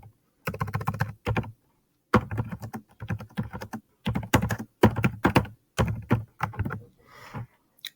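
Keys on a computer keyboard are typed in short bursts separated by brief pauses, close and clear clacking, with no talking over it.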